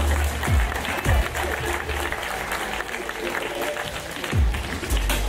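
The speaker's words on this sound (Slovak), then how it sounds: "Máme bežiacu Zuzanu Kovačič-Hanzelovú za tleskami." Audience applause at a Slovak podcast awards ceremony as a winner heads up to collect a prize, steady clapping filling the room while a voice talks over it.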